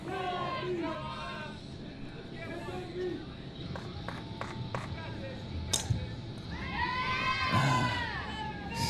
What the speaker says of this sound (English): Kelly's got the crowd chanting her name.